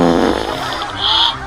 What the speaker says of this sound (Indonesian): ibunya kentut deh